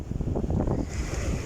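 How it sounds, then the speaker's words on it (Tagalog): Ocean waves surge and wash in a low, steady roar, with wind rushing across the microphone. "Uy, alon"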